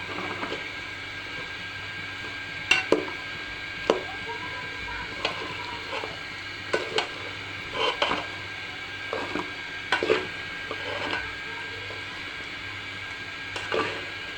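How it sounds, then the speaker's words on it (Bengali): Rice frying in a pan for khichuri with plenty of onion and garlic, stirred now and then: a steady soft sizzle broken by irregular scraping and clinking strokes of a spoon against the pan, close by with no talk. "যখনই নিচে একটু লাগা লাগা হয়ে যাবে তখনই বুঝতে হবে যে চালটা আমার ভাজা হয়ে গেছে"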